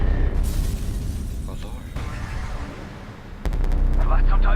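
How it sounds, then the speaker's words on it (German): An explosion in F.E.A.R. 2 lands as a heavy boom that rumbles through the scene and then gives way to a sharp crack and loud low roar. A brief voice cuts in near the end. "Jetzt ist die Explosion gewesen, ne? War das eine Bombe?"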